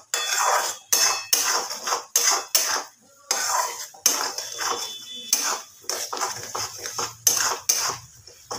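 A spice paste for white egg curry stirred in a pan, rapid bursts of metal spoon scraping and clinking against the pan in choppy rhythm with short gaps, close and fairly loud.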